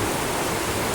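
Heavy monsoon rain and rushing flood water in Kalimpong make a dense, steady broadband roar that fills the whole moment without a break, and no voices are heard.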